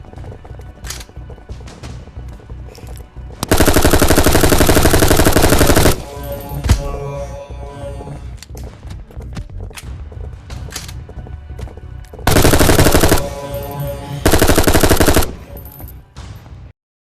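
An MP5 submachine gun firing in a VR video game, loud rapid automatic bursts, one long stream of about two and a half seconds and two shorter ones later, with scattered single shots and clicks between.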